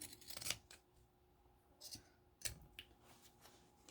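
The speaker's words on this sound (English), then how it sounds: "now I'm going to use my Fiskars pinking shears here" Fiskars pinking shears snip through pleated fabric of a sewn face mask in a few quiet, crisp crunching cuts spaced apart, close to the listener, with no talking.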